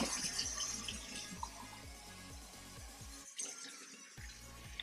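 Tap water runs into a measuring cup in a home kitchen while a meal is prepared, a steady splashing stream with background noise that breaks off briefly before resuming.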